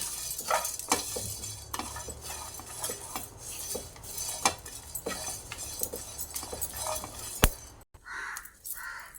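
Coriander seeds, cumin and garlic cloves dry-roasting in a pan without oil, with a steady run of scraping and clinking stirring strokes against the metal. Two short louder bursts come near the end.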